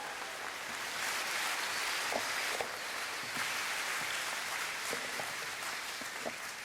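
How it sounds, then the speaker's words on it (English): A crowd applauds at a fall convocation graduation ceremony, a steady wash of many hands clapping from a distance, fairly faint and even throughout, with no talk on top. "Big round of applause."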